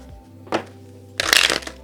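A deck of oracle cards being handled and pulled, with a brief papery riffle followed by a louder, longer burst of cards sliding and shuffling, close up over a low steady hum.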